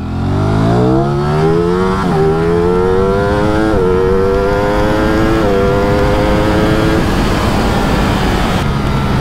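A Ducati Streetfighter V4 naked motorcycle is ridden at full throttle, its loud engine revving hard and climbing through several quick gear changes with brief dips between pulls, sustained and close with no talk.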